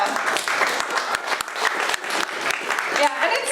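Comedy theater audience clapping steadily in a brisk, dense patter that holds for the whole stretch, fairly loud and close, with some crowd voices mixed in.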